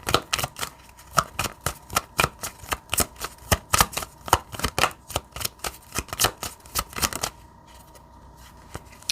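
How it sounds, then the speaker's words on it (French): A deck of tarot cards being shuffled by hand, with many crisp, rapid riffling snaps in uneven bursts, close and clear, then a quieter pause near the end. "Et allez, je vais prendre une dernière carte."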